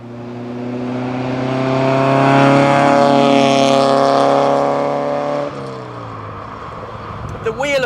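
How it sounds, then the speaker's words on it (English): The flat-four engine of an Alfa Romeo 33 1.7 Green Cloverleaf revs loud and close, its buzzy, rising note swelling and then holding before dropping sharply at a shift. It settles lower afterwards, with a few small clicks at the end. "with the lovely sound of the flat 4 in there"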